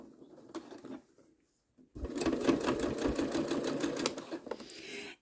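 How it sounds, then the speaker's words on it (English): A sewing machine stitches a fabric pouch made from scrap strips, starting with a few hesitant single stitches and then running in a fast, steady, rattling burst for about three seconds, close and clear. "We're going to go to the sewing machine and give that a stitch."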